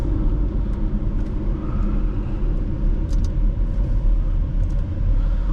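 Inside a 2018 Porsche Macan GTS on the road, a steady low cabin rumble of engine and tyres holds constant at a gentle pace, loud and continuous with no talking.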